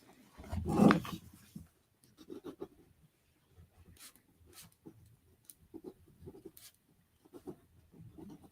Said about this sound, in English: Let me write that out.